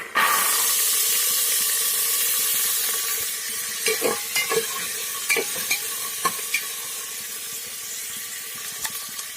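Peas sizzling and frying in hot oil for pulao, with steady hiss and repeated stirring scrapes and clicks of a spoon against the pan, close up and without talk.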